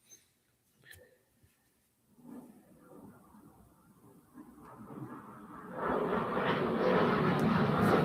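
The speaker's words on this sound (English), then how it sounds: "There's another plane." Propeller airplane passing overhead, its engine drone rising from faint to a loud steady roar over several seconds, with brief talk near the start.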